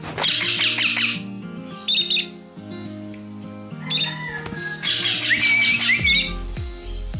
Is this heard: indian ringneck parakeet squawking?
yes